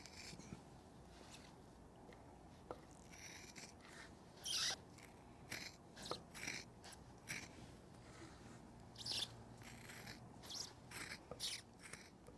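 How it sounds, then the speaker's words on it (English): Shears snip through a leather guitar strap, producing a series of crisp, close cutting crunches at an irregular pace amid quiet pauses. "And now we can trim. And I find this best to do with the shears."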